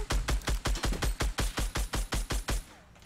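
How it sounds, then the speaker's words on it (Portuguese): Fast bursts of gunfire in a Fortnite battle royale duo-versus-squad match, about a dozen sharp, evenly spaced shots rattling off in quick rhythm, loud and close, with nothing else heard. "tem algum me atirando que eu não sei onde ele tá"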